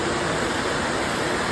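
A hidden waterfall in the forest at Kolukkumalai gives a dense, unbroken rushing roar, close and steady, with no other sounds cutting through.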